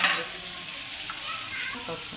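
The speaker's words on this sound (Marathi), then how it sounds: "बोंबील आणि वांगे तेलात फ्राय करून घ्यायचे" Bombil fish and brinjal fry in hot oil in a pan for a home curry, giving a loud continuous sizzle that fills the short stretch without any voices.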